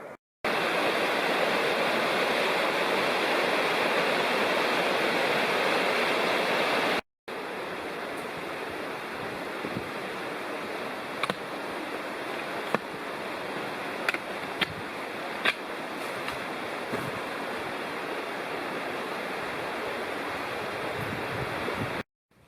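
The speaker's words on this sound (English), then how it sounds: "Over there is Skull Branch flowing into the Clear Fork River." Skull Branch creek pours into the Clear Fork River in the Big South Fork backcountry, a steady broadband rush of flowing water heard close and continuous, broken by a brief gap, with a few faint clicks over the roar.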